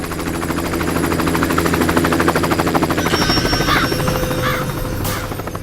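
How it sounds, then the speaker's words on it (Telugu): A loud helicopter overhead a village, its rotor chopping in a fast steady pulse throughout, with a few faint higher sounds near the end. "మన ఊర్లో హెలికాప్టర్ ఏంట్రా?"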